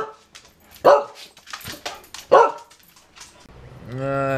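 Dog barking indoors, two sharp close barks spaced about a second and a half apart among quieter household sounds, ending in a drawn-out whine or howl.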